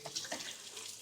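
A kitchen tap lets water run in a short, faint, steady splash lasting about a second.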